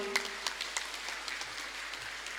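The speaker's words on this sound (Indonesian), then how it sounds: "Tepuk tangan dulu buat santriwati." An audience at a graduation ceremony for TKA-TPA Quran school students in Tanah Bumbu claps, a faint, somewhat distant patter of hands with a few sharper individual claps.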